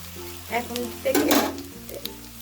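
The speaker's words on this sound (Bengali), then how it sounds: "লবণটাকে পেঁয়াজের সাথে খুব ভালো করে নাড়িয়ে চাড়িয়ে মিশিয়ে নেব" Onions with salt stirred in a frying pan for a Bengali village-style pui shak chorchori, a steady sizzle with clattering scrapes of the spoon, loudest mid-stir, close and alone.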